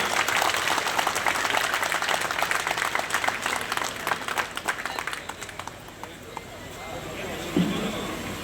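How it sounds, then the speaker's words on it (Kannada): A crowd at a youth association conference gives strong, rapid applause that holds loud for several seconds, then thins into scattered claps and fades as a voice speaks near the end. "ಈಗ ನೀವು ಜೋರ ಚಪ್ಪಾಳೆ ಬರಲಿ"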